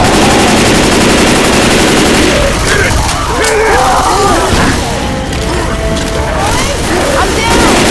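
Rapid automatic gunfire and heavy shots in Left 4 Dead 2, aimed at a mudman, loud and continuous with booms and mechanical clatter, mixed with game sound effects.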